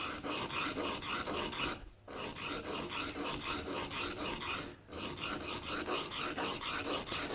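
A molding plane blade is sharpened on a coarse stone in rhythmic, steady rasping strokes. The strokes run close and loud with a short pause at about two seconds and again near five seconds.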